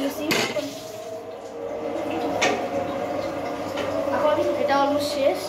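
A metal spoon strikes a pan during noodle cooking, giving a couple of sharp, close clinks amid soft kitchen clatter, while someone talks over it.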